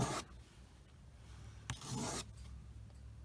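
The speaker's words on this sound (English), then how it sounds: "You can keep using the same piece of sandpaper" Fine wet-dry sandpaper rubbing on a small plastic part of an M4A3 76W VVSS model tank, two short rasping strokes separated by a quieter pause, close and soft.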